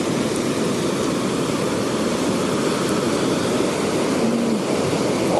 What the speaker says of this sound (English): Or at least it's a good wave to play in